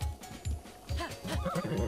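A horse in Zelda: Breath of the Wild whinnies loudly and shakily in a rising and falling call, with a few low thudding hoof sounds at the start.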